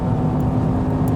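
Mercedes-AMG GT 63 S E Performance hybrid four-door coupe accelerating hard at high speed on a racetrack, a loud, steady, close-up engine and road roar with no voices heard.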